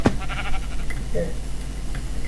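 A Minecraft sheep in version 1.6.4 lets out a short bleat under steady game background noise, with a player's voice chattering in the mix.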